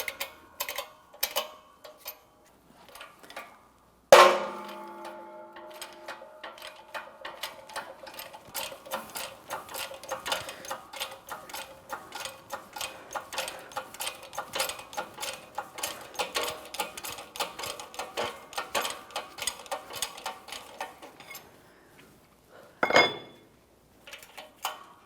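A press tool forces the front wheel bearing out of a 2014-2019 Toyota Corolla hub, producing a rapid, steady ratcheting click that runs for about twenty seconds, bracketed by a sharp metallic clank and scattered knocks.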